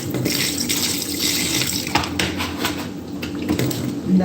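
Tap water runs steadily into a sink over raw chicken being washed with vinegar, a continuous splashing hiss with occasional clinks of dishes, close and fairly loud.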